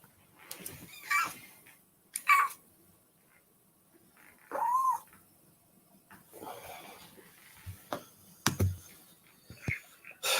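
A house cat gives a short meow amid scattered thumps, sniffs and snorts in a quiet room, with the meow standing out briefly near the middle.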